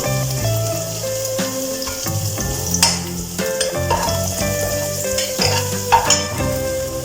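Spices and asafoetida sizzle steadily in a frying pan while sambar is cooked, with an occasional clink of a utensil against the pan. Tonal background music runs underneath.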